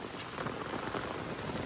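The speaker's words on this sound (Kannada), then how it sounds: "ನೋಡ್ರಿ ಇಲ್ಲಿ ತೊಗೊಳ್ ಮಳೆ ಅದ" Heavy rain falling at night, a faint, steady hiss of rain pattering on surfaces throughout, with no voices.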